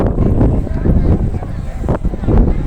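Strong wind buffeting the microphone high up on a large metal and bronze-clad statue, loud rumbling gusts rising and falling, with a voice speaking over it.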